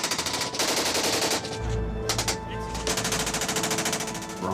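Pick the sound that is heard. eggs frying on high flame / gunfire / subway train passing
gunfire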